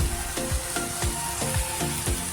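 Turmeric and coriander powder roast in a hot pan with a loud, dense sizzle, while a spatula scrapes through in regular rhythmic strokes.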